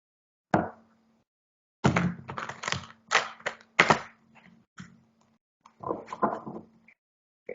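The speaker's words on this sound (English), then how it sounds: "one more shuffle and we're good to go." A deck of playing cards being shuffled nearby, in a few quick riffling bursts with short pauses between them.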